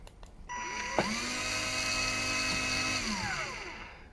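A homemade CNC tyre truer lathe powers up with a rising electric whine of stepper motors that holds steady, then ramps down near the end after a brief click, close and alone.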